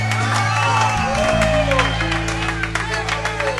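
A concert crowd claps, whoops and cheers over a sustained musical drone, a loud, dense mix of applause and shouting voices that carries throughout.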